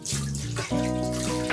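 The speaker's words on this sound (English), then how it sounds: "I just use the bath water to rinse, but then I go over it again with clean water." Running bath water pours over a dog being rinsed in a tub, a steady splashing flow with a brief dip midway, close and fairly loud with no talking.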